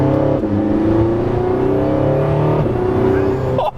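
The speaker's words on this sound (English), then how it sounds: "when I floor it, I can hear a little bit of that electric motor" Interior sound of a Porsche 918 Spyder under full throttle: a loud, rising engine drone mixed with a faint electric-motor whir, holding steady for several seconds before cutting off abruptly near the end.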